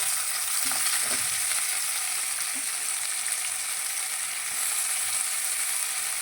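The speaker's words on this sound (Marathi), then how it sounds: "टमॅटो बी चांगला फ्राय होऊ द्यायचा" Tomato frying in a pan for a fenugreek-leaf dish, a dense continuous sizzle held close and loud, with a few faint stirring knocks near the start and no talking.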